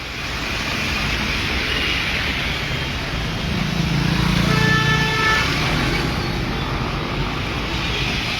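Heavy-rain road traffic jam at a blocked bus stand circle in Panjim, Goa: a steady broadband wash of rain and idling engines, with a car horn sounding clearly near the middle over the constant roar.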